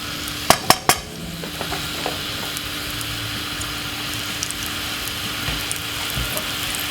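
White onion fries in olive oil in a pan. A few sharp utensil clacks come first, then a steady, moderate sizzling hiss with occasional faint taps.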